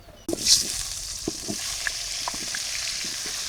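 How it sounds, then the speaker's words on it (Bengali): Oil hisses and sizzles as eggplant pieces drop into a hot wok, a steady frying crackle with a few soft clinks underneath. "কড়াইতে তেল দিয়ে দিলাম বেগুনগুলো একটু হালকা ভাজা দিয়ে নিই"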